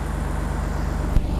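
A Holden VZ Commodore engine idles just after starting, a steady close rumble with an even low pulsing beat and one brief knock near the end.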